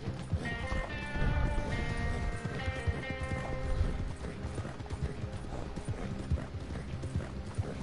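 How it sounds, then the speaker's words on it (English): Horse hooves clip-clopping in the video game Red Dead Online, a steady trotting rhythm under game music and clanking gear, fairly loud and continuous. "Yeah, tied on the back of a horse."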